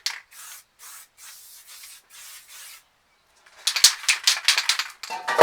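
Short bursts of spray from a paint can hiss onto a recycled canvas, first several brief even puffs with gaps, then a denser, louder, choppier spray toward the end.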